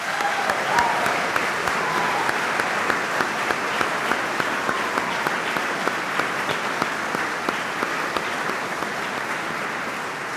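Audience applause at a public town hall meeting in Hobart, a sustained dense clapping from a crowd that carries on evenly for about ten seconds without dying away.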